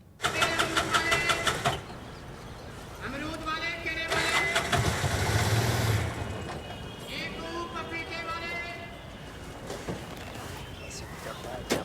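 A car engine cranks and starts with a loud mechanical rattle near the beginning. It then idles on under voices and other film sounds.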